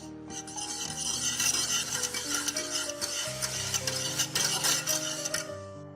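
Flour, sugar and salt for bread dough are stirred together in a bowl, a continuous dry rubbing and scraping sound, with music playing underneath.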